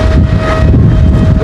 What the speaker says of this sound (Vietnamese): Gió vi vu.